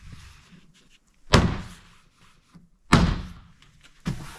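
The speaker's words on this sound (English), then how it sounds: "So as long as it's lined up, the door panel goes right back in." A door panel on a first-generation Toyota Tacoma is snapped back onto the door, giving two sharp, solid thunks a second and a half apart and a softer third knock, loud and close with no talk.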